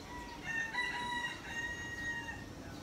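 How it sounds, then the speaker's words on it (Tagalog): Faint rooster crowing rises over quiet outdoor ambience, with a couple of drawn-out crows at a distance. "ang ingay ng mga manok"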